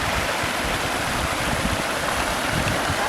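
Water rushes down the rocky rapids and stream of a newly built backyard pond water feature, a steady, close, broadband wash with no talk over it.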